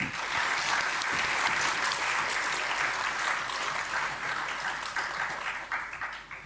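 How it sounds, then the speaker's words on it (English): Sustained applause from a sizable audience, a dense wash of clapping that holds steady and then begins to fade near the end. "give another big round of applause to sir"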